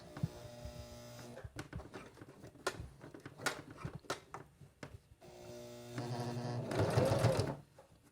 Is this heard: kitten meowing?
no